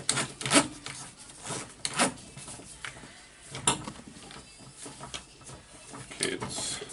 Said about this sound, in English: the chuck screws out really easily